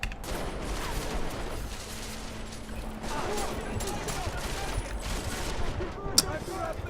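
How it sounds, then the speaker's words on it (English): Gunfire in Deus Ex: Mankind Divided rattles through a busy game soundscape, with scattered shots and short bursts running steadily across the stretch and one sharp, louder crack near the end. "the shooting is so strange"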